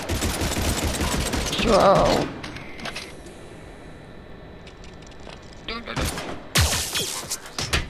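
Gunfire bursts ring out in a Mass Effect 3 firefight, with a loud volley early on and another cluster of shots near the end, while a player talks and exclaims over the action.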